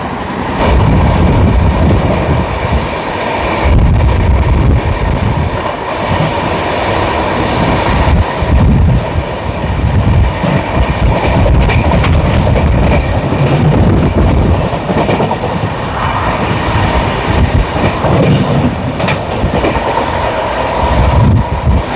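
The Hapa Special passenger train runs on rails in India, a loud, continuous rumble and rattle of wheels and carriages that holds steady throughout without speech.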